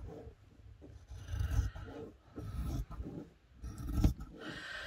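Quiet, close-up rasping snips of scissors cutting through fabric, coming in several uneven strokes separated by short pauses.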